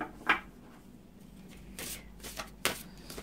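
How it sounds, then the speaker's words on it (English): A deck of Crystal Ally oracle cards shuffled by hand, quiet and close, with a few soft riffling bursts separated by near silence. "give them a shuffle"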